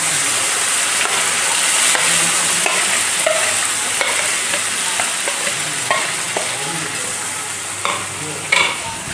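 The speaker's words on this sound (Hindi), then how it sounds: "तो देखिए हमने सारे मसाले डाल दिए और इसको अच्छे से मिक्स भी कर लेंगे।" Boiled, ground spice paste for tamatar paneer fries in oil over browned onions, a dense steady sizzle with a spoon stirring and scraping the pan, louder clanks near the end.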